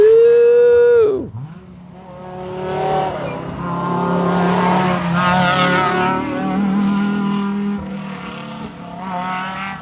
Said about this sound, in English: Lots of induction noise on that car.